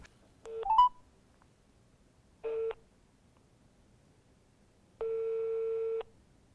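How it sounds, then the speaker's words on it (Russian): A telephone line gives short electronic tones: a quick cluster of dialing beeps, then a brief tone and a longer one-second tone separated by near silence, quiet and clean with no voices. "я постараюсь позвонить представителям департамента и разузнать"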